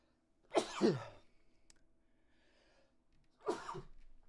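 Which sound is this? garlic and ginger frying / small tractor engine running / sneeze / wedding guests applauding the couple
sneeze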